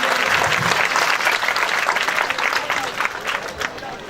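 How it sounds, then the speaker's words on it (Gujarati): An audience at a primary school dedication ceremony applauds to welcome Gitaba, dense sustained clapping from a crowd that carries on evenly for several seconds. "ગીતાબાને તાળીઓના ગરગડાટથી ગીતાબાને વધાવીએ."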